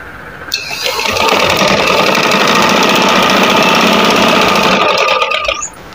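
Stitching a side-chak seam right along the fabric edge, a sewing machine starts up and runs in a steady, close, rapid mechanical chatter for several seconds, then winds down and stops.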